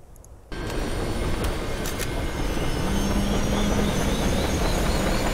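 A helicopter in a military video game sets in abruptly and holds as a loud, steady rotor and engine roar with a faint rhythmic flutter throughout.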